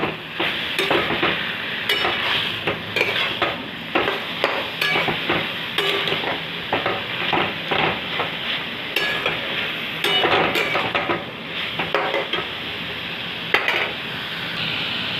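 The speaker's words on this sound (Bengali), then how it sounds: "এবার আবার আমি কিছুক্ষণ নাড়বো" Pumpkin greens being stirred in a hot pan with a spatula, a loud steady sizzle overlaid with frequent scraping and knocking strokes in an irregular rhythm.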